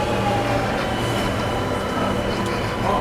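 Metro train running into a station on one of the world's most expensive subway systems, a loud, steady rumble of wheels and motors with faint high squeals, close by and sustained throughout.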